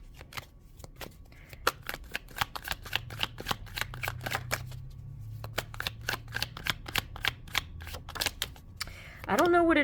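Tarot cards are riffled and shuffled close by in quick bursts of crisp flapping clicks, with a soft voice murmuring low underneath and a brief spoken sound at the very end.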